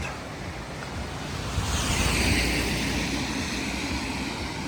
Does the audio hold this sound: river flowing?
yes